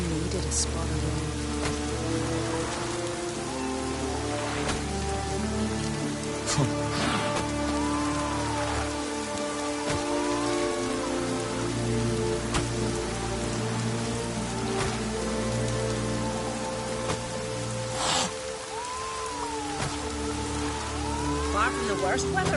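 Continuous rainfall pattering on surfaces, a close, dense hiss of drops with scattered sharper hits and a soft tonal hum in the background, holding steady from start to finish.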